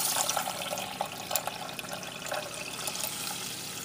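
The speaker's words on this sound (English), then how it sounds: "4 cups of water to the 2 cups of white rice" Water is poured over dry white and brown rice in a kitchen while preparing instant rice for a dehydrator; a continuous splashing stream, close and moderately loud, runs for several seconds without talk.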